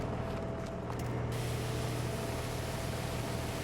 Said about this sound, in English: we're actually gonna spray all this off here.